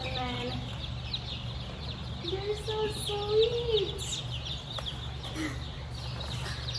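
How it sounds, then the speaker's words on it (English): Hens cluck and call softly at close range, with a low steady hum underneath and someone talking briefly over them. "This is a hen, for sure. It's a big hen."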